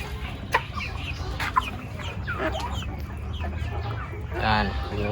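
Several chickens cluck nearby in short, overlapping bursts, with a few sharper calls and faint background noise.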